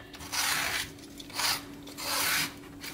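A fresh ridge gourd has just the sharp outer ridges scraped off, giving three bursts of dry rasping strokes, fairly close and moderately loud, with short pauses between them and no talking.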